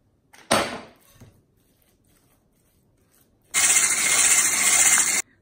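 Cottage cheese for doughnuts is mashed in a bowl, giving a short scraping rub, a pause, and then a longer, steady, fairly loud grinding rub that stops abruptly.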